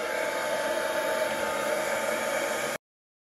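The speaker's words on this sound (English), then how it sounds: "I will use a hairdryer for this bit just to blow this colour out" A hair dryer blows acrylic paint across a canvas at close range, a constant broadband whoosh with no talking, cutting off abruptly after about three seconds.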